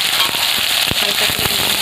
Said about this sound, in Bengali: কালকে ভেজে নেওয়া একটু নোনা চিংড়িগুলো ভেজে নেব